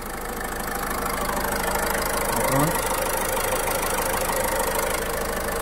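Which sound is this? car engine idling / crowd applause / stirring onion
car engine idling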